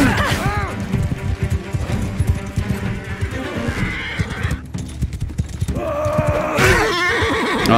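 Horses neighing and whinnying repeatedly amid battle in Mount & Blade 2 Bannerlord, with pounding hoof clatter and clashing impacts, loud and close, ending in a sharp crash followed by another whinny.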